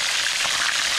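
Carp frying in a pan, a dense, even sizzle of hot oil spitting steadily and close up, with no voices.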